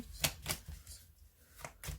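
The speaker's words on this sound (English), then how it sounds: "just going to shuffle these a bit." Tarot cards riffle in quick, soft bursts, a few brisk shuffling rustles close by with short pauses between them.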